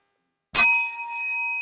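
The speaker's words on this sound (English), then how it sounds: "Ring the bell." A single bell is struck once to celebrate a sale, a sharp strike followed by a clear ringing tone that sustains and slowly decays, alone with no talk.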